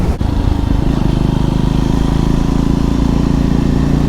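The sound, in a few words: 400cc motorcycle riding on twisty A road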